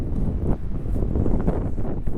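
Strong wind buffets the microphone on a sandy beach along the Japanese coast, a steady loud roar with low rumbling gusts throughout and no voices.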